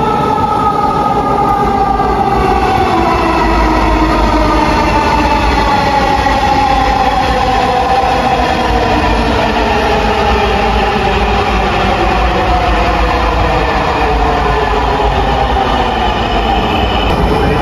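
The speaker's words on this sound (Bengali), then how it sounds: "ফাইনালি অপর সাইড থেকে মেট্রো চলে আসছে।" A metro train rumbles loudly and steadily throughout, a continuous mechanical roar with shifting tonal whines as it moves along the track.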